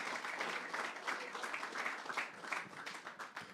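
Small live comedy show audience applauding, a soft burst of scattered hand claps with uneven rhythm, fairly quiet and close, with a few voices mixed in.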